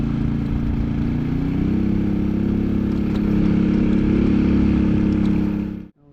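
Motorbike climbing a hill toward Wat Phu That in Laos, its engine droning loud and steady with a slight rise in pitch as it pulls uphill, then cutting off abruptly near the end.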